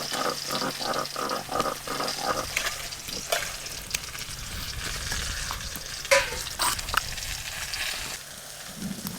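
Vegetables frying in a pan for Bengali neem jhol, close crackling sizzle with rhythmic stirring strokes early on, then looser scrapes and clinks, and a faint voice murmuring partway through.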